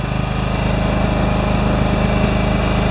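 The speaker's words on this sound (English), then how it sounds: "Get this tractor out of this little space." A John Deere 180 lawn tractor engine runs in an alley, a loud, steady, close-up small-engine drone with a throbbing low rumble that holds constant throughout and no voices.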